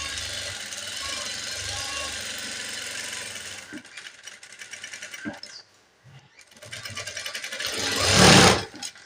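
A sewing machine runs steadily at close range while stitching a churidar neckline beneath canvas interfacing, then slows and stops, followed by fabric handling and a loud rustle.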